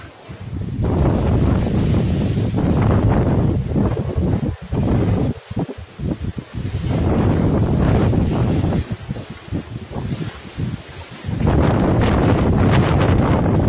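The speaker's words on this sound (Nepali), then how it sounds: "यस्तो हावा चलिरहेको छ" Strong wind buffets the microphone on a rooftop in a village, with loud, gusty roaring in long surges and brief lulls between them.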